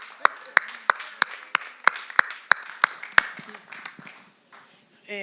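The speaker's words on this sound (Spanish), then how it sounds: "Dale un aplauso." A church congregation claps in a clear, sharp rhythm of about a dozen distinct beats, then stops, followed by voices talking, in a fairly close, reverberant room.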